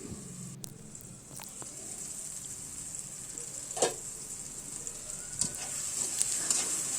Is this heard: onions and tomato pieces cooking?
yes